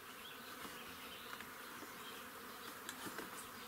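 A steady, dense buzzing of honey bees at an apiary fills the scene, with a few individual bees droning closer now and then.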